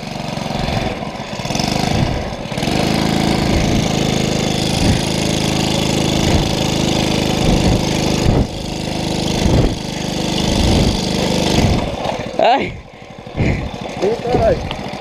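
A Moby moped fitted with a new engine runs loudly and steadily, then the revving stutters and drops away near the end, with voices talking over the engine throughout.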